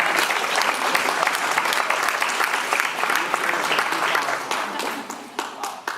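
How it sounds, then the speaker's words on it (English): Audience applause fills a banquet hall, dense steady clapping from a large crowd held for several seconds before thinning out toward the end. "So give a round of applause for yourselves."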